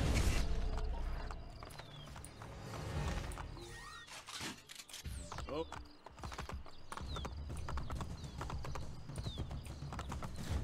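A horse gallops in the video game Assassin's Creed Brotherhood, its rapid hoofbeats loud and steady beneath shouting voices and game sound, with a short lull midway before the pounding resumes.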